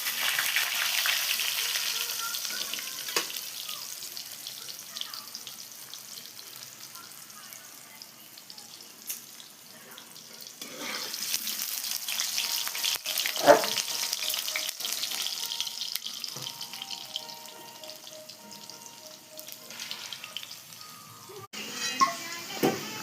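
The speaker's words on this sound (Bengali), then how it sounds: "আলুগুলো লাল লাল করে ভেজে তুলে নিচ্ছি।" Potatoes fry in hot oil in a home kitchen, giving a steady crackling sizzle throughout, with occasional clinks and scrapes of stirring in the pan.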